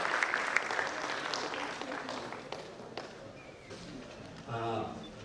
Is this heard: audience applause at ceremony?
yes